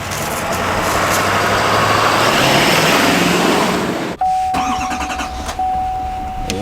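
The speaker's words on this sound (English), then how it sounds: "You turn it on, it barely sounds like you started a diesel truck at all." A loud engine rumbles steadily, then cuts off abruptly and is followed by a quick starter crank and the diesel engine of a 2021 GMC Sierra Denali pickup with an L5P Duramax catching and idling roughly.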